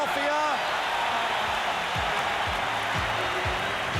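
Steady roar of a packed arena crowd at a 1981 Game 7 between the Boston Celtics and Philadelphia Sixers, loud and continuous, with a basketball thumping rhythmically on the court beneath the noise.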